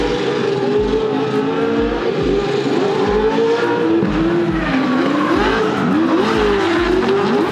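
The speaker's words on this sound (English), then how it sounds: "We did some practice in the Corvette, everything was going brilliant. You can see some of the runs here." A Corvette on a drift practice run at Japfest, its engine revving hard and loud with rising and falling pitch, broken by repeated tire squeal and skidding across the whole stretch.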